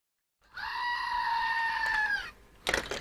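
A goat bleats once in a long, sustained, harmonic cry lasting nearly two seconds, followed by a brief rustling noise.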